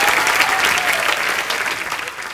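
A studio audience at The Kapil Sharma Show breaks into strong applause to welcome actor Paresh Rawal. The clapping is thick and sustained for a couple of seconds, then tapers off slightly.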